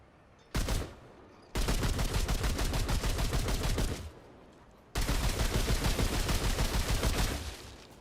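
Automatic weapon fired at a firing range in the game Remnant 2, heard as two long, loud rattling bursts of rapid shots with a short single burst before them and brief quiet gaps between, no voices.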